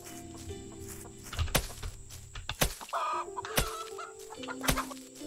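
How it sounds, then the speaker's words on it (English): Video game chickens in Garden Paws cluck in short, close bursts, with several sharp clicks and tonal game sounds scattered around them. "these are the scariest chickens on the planet"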